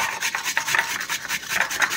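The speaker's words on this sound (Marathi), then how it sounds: "त्यासाठी आपण काकडी किसून घेऊया" A cucumber is grated by hand for a Marathi-style cucumber salad, giving a steady run of close, rasping rubbing strokes in quick rhythm, with no talk.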